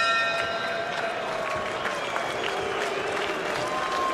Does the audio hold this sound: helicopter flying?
no